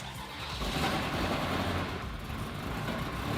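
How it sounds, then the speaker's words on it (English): A Ferrari 360 Spider engine, idle for two years, cranks and catches, building into a rough, steady rumble close by without any talk. "Time to start the Ferrari for the first time in 2 years."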